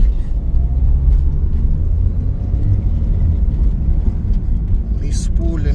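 A 1997 second-generation Mitsubishi Eclipse drives along with a loud, steady low engine and road rumble filling the cabin, plus a brief higher whine near the end.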